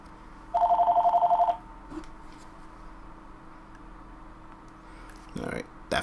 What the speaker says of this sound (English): Alright, that phone just went completely off.